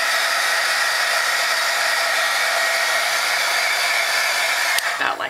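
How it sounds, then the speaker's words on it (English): A heat tool blows a loud, steady, close whooshing roar while heat-setting embossing on a craft snowflake ornament, holding unbroken before cutting off abruptly at the end. "Now I'm going to heat set it."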